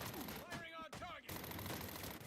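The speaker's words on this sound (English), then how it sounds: "Firing on target." Bursts of automatic gunfire rattle in Batman Arkham Origins as police open fire, fairly loud and dense, with brief voice-like tones and a short break mid-clip.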